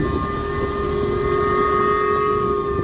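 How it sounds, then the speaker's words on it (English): A steady, blaring warning siren wail holds a constant tone throughout, layered over a dense low rumble of machinery, amid halted trains and loudspeaker warnings. "blaring sirens"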